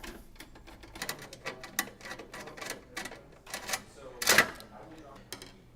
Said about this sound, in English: Next, we're going to remove the top two screws that hold this face